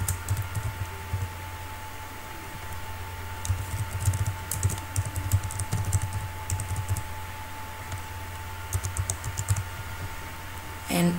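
Someone types a username on a computer keyboard, with close, crisp key clicks arriving in uneven bursts and pauses over a low steady hum, with no speech.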